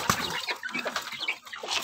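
Chicks and chickens cluck in a backyard poultry flock of mixed breeds, with a run of soft, close, quick peeps and clucks that keep overlapping through the short stretch and no voices.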